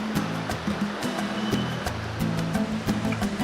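A river on a running trail in Martinique rushes steadily as broad, continuous water noise, close by, with repeated dull thumps and a low hum running through it.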